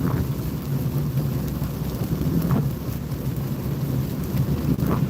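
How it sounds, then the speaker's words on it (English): Heavy rain drums steadily on a car while driving, a dense continuous wash with low road rumble beneath and no talking. "Oh, and the rain's picking up."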